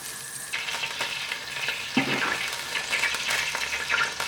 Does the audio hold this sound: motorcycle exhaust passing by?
no